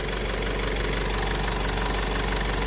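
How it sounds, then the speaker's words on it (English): A 2000 Mercedes-Benz E200 CDI W210 with its four-cylinder diesel idling up close, a loud, even, knocking clatter throughout with no voices. "The CDI 4-cylinder engine."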